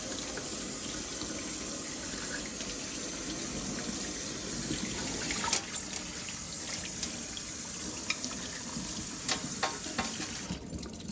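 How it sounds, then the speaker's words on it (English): Tap water runs steadily into a kitchen sink while vegetables are washed, a close, continuous gushing hiss with small clatters and splashes before the flow eases off at the end. "We're just going to give it a wash. You always definitely want to wash your veggies."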